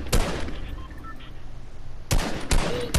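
Gunfire in a shooter video game comes as three loud, close, sharp cracks: one at the start and two in quick succession near the end, with quieter game ambience between.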